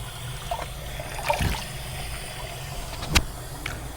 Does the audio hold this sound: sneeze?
no